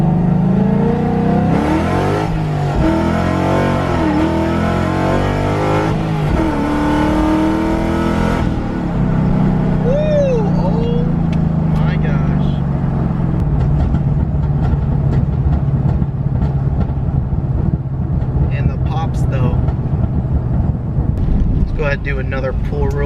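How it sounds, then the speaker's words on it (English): Coyote 5.0-swapped 2007 Mustang GT with Corsa Extreme exhaust pulling hard in first gear, a loud rising engine roar heard from inside the car with a voice talking over it and wind noise as the revs drop. "Let the Corsa Extremes do her job. All right, here we go. First gear."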